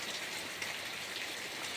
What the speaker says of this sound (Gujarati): વરસાદ રાતનો ચાલુ જ છે